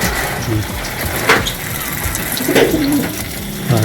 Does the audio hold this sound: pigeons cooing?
yes